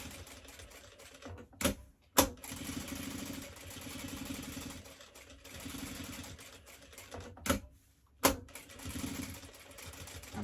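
Sewing machine stitching a fabric mug coaster runs in a steady, fast mechanical patter, close and moderately quiet, broken by a few sharp clicks and brief pauses.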